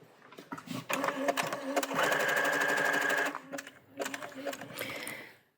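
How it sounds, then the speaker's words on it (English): Sewing machine running a decorative stitch on viscose satin, close and rhythmic with bursts of rapid needle clatter and a brief pause between runs, a voice faintly present alongside. "This is a viscose satin, and I'm going to do a decorative stitch"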